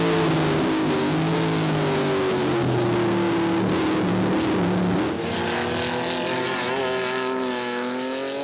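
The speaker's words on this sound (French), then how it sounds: "Ici, un splendide duel entre une AC Cobra et une Porsche 910." An AC Cobra and a Porsche 910 duel on a racing circuit, loud engine roars with rising and falling pitch as the cars rev and shift, sustained throughout, with a brief dip in level midway as one passes.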